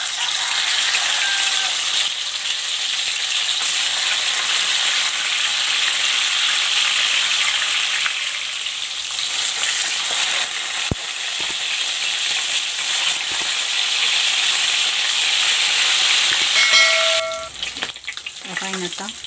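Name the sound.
fish soaked in salt and pepper frying in hot oil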